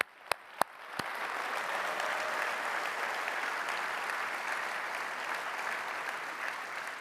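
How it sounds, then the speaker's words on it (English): Large audience clapping at a 3DEXPERIENCE World 2024 general session. A few sharp knocks come first, then broad steady applause swells in and holds at an even, distant-sounding level. "big round of applause."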